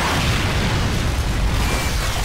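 Missiles explode in the Bayonetta action game, a continuous loud roaring blast with heavy low rumble and hiss sustained throughout, no speech.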